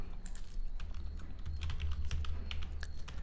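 Fingers type on a computer keyboard in a quiet room, a quick irregular patter of light key clicks running continuously with no talking.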